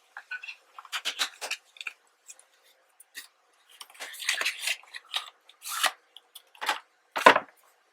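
Giant playing cards being slid out of their box, with close, dry papery flicks, scrapes and taps coming in irregular bursts, otherwise quiet.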